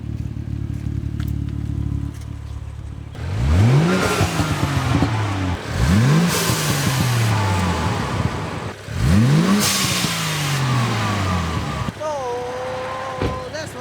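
A turbocharged car engine with a Turbosmart blow-off valve and CTS turbo inlet pipe revs up sharply three times, each burst climbing then falling back to idle, loud and close.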